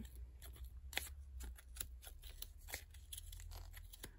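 Scissors cutting through a wool pompom, a quiet run of quick, crisp snips that come in an uneven rhythm, close up with no talk.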